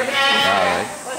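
A goat at a goat farm in Japan gives one loud, close, wavering bleat lasting about a second.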